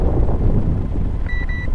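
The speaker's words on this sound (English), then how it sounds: "It's too windy." Strong wind buffets a microphone outdoors in a steady, loud low rumble, with a faint two-tone electronic beep near the end.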